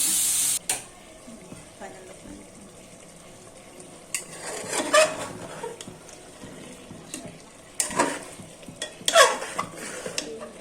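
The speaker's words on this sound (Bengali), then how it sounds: "নেড়ে দিচ্ছি।" Spicy beef simmering in a pot is stirred, with scattered scrapes and clinks of a utensil against the pot over a low, quiet kitchen background, with louder bursts near the middle and toward the end.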